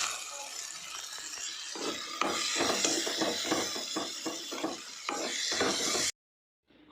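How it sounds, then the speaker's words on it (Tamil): Tomatoes being sautéed in a pan for a quick chicken dish, a soft sizzle under a rhythmic series of scraping and clinking stirring strokes, close up, ending abruptly in silence. "அதுக்கப்புறம் அப்படியே தக்காளி போட்டு வதக்கிடலாம்"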